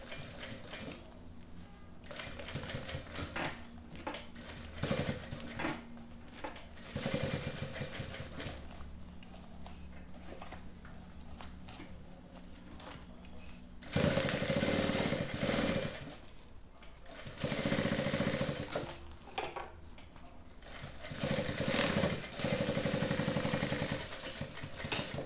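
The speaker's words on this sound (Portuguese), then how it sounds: "Vamos passar a costura do lado de cá também." Sewing machine stitching a seam on a fabric toiletry bag, rapid mechanical needle chatter in bursts of varying length with short pauses between runs, close and clear without talk.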